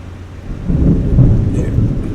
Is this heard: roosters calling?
no